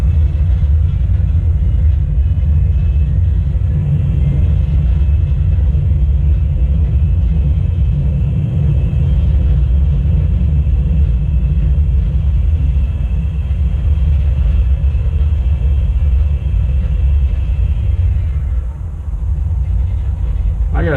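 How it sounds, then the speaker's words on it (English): Sustained deep roar of an MD-82 airliner's reverse thrust after touchdown in a flight simulator game at San Francisco, a steady loud rumble with a whining tone that eases off near the end. "reverse thrusters"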